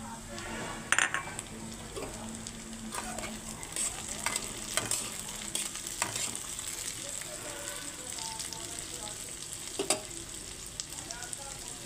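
Chopped tomatoes sizzle in a hot pan while a utensil stirs and clinks against the metal now and then.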